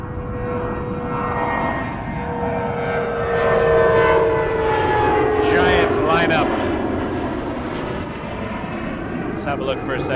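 A KLM heavy airliner arrives on runway 24 left at Toronto Pearson, its engine drone swelling and fading from mid-distance with a steady jet whine; a voice talks faintly at one point.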